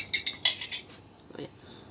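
Quick metallic clinks of a fork whisking egg yolk in a bowl, about a half-dozen sharp taps in the first second, then a softer scraping stir, close and fairly quiet with no talking.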